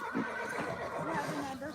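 A mare gives a short whinny at a horse rescue assessment, one quick rising-and-falling neigh heard fairly close amid faint background sounds.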